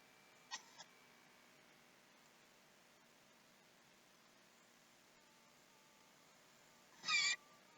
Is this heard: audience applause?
no